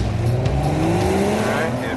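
BMW X3 SUV with a 3-litre turbocharged six-cylinder engine accelerating hard from a standstill, its loud engine note rising steadily in pitch through the run as a voice talks over it.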